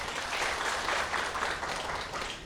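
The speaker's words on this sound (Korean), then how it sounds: "그럼 큰 박수로 이윤상 교수님 환영해 주십시오" An audience at a university art fair lecture welcomes the speaker with dense, continuous applause, a steady wash of many hands that holds throughout at moderate loudness.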